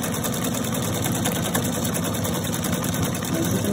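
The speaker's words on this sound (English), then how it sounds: "I'm just going to hit the stop start button and we'll watch it do the stitch." A Pfaff Quilt Expression 720 sewing machine running steadily while stitching a wide maxi stitch, a continuous fast mechanical whirr and rapid needle rhythm, close and even throughout with no talking.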